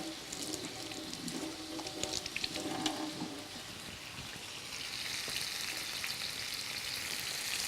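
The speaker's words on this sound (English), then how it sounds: "place that right there in the hot oil" A seasoned sirloin steak hits hot oil, setting off a soft, steady sizzle and crackle with a few brief clinks early on, the frying growing slightly louder and more continuous toward the end.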